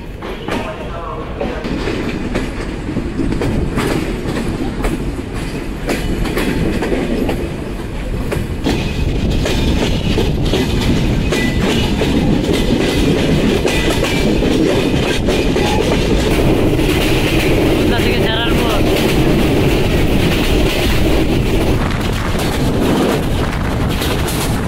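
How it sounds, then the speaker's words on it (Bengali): The Kapotaksha Express intercity train departing Rajshahi railway station, a loud, continuous rumble with rhythmic clacking of wheels over rail joints, sustained close by throughout. "আন্তনগর কপোতাক্ষ এক্সপ্রেস ছেড়ে গেল রাজশাহী রেলওয়ে স্টেশনে"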